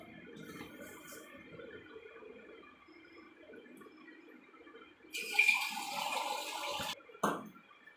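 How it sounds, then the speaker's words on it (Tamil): Water is poured into chapati dough as it is mixed: a splashing, running-water burst of about two seconds rises over quiet kitchen background, followed by a brief clatter. "கொஞ்சம் கொஞ்சமாக தண்ணி ஆட் பண்ணி நல்லா இந்த மாதிரி கலந்துக்கணும்."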